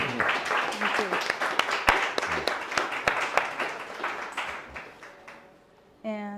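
Audience applause at a spoken word poetry event, with sharp individual claps over a crowd wash that thins and fades, followed by a brief voice at the end.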